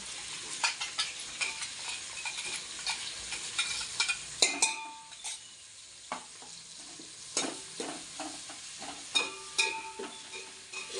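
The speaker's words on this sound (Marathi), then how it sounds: "आता हे अद्रक लसूणचं पेस्ट वगैरे टाकते हो" Ginger-garlic paste sizzles in hot oil while a spoon scrapes and stirs it around the pan for a veg pulao, giving steady frying hiss with repeated close clinks and scrapes and a brief quieter lull midway.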